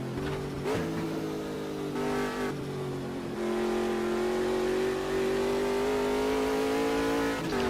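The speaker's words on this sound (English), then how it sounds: "Let's just enjoy the sound of that big old engine." A Ginetta G58 prototype race car in AMS2 revs hard through the gears, with the engine note climbing, briefly dropping at each shift, then holding a loud, sustained high-rpm scream.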